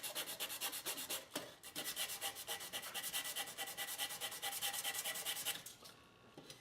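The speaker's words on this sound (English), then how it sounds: "So I'm just going to sand this down a bit again." Steady rhythmic sanding strokes on epoxy filler on a tin toy, a dense scratchy rasping that runs nearly continuously at close range, pausing briefly before trailing off at the end.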